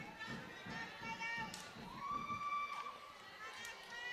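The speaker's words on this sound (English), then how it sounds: "The whole section is cheering in unison for their team." A crowd section cheers together at a high school Sweet 16 second-round volleyball match in a gym, a steady roar of voices with bright shouts and thumps from the court, while a voice talks over it.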